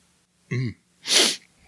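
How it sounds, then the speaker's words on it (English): A single close sneeze: a sharp intake breath followed by a bright, noisy burst, then quiet. "I'm about to sneeze now"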